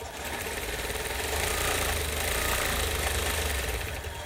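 A sewing machine stitches a quilt in crosshatch circles, running in a steady, fast mechanical whir with a constant rattling hum throughout.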